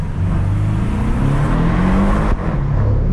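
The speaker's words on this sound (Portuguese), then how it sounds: "é a primeira vez que eu tô andando numa Porsche zero, mano" A brand-new Porsche engine drones steadily from inside the car while driving, loud and close, with a brief dip as the driver shifts down, then the hum resumes. No one speaks.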